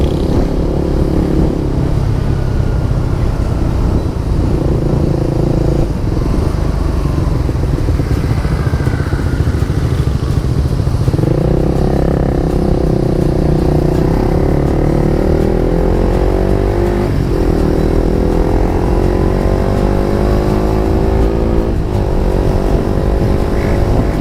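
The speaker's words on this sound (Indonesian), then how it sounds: "suaranya cukup jelas dan terasa khas KTM" A KTM motorcycle rides along a road in Central Java, its engine droning loud and steady with rising and falling pitch as it accelerates and shifts, mixed with heavy wind rush and no talk.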